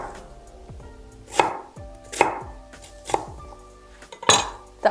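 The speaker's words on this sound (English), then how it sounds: "Watch me how I roughly chop the onion." A knife roughly chops an onion on a board while making cauliflower and Brazil nut soup: about five sharp, separate chops spaced around a second apart, close and crisp against a quiet kitchen.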